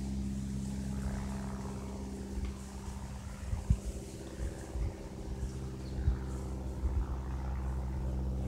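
A low-flying Cessna passes over a house, its propeller engine a steady droning hum with low tonal rumble, heard nearby and alone under faint background noise.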